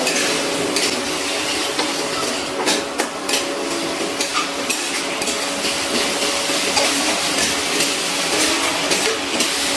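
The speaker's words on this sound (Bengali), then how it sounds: "এবার খুব ভালো করে সব কিছু মিশিয়ে আমি আবার একটু কষিয়ে নিচ্ছি ভালো করে।" Spice paste for potol korma is stirred and fried in a pan, giving a steady, loud, close sizzle with continuous scraping and clinking of a spoon against the pan throughout, and no voices.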